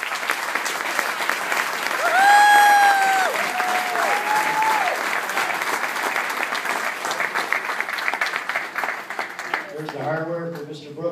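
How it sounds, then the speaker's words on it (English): A banquet crowd at a high school sports event breaks into loud, sustained applause for a team, with whoops and a whistle-like cheer rising over the clapping and a voice talking as it fades. "So let's have a big round of applause for this team."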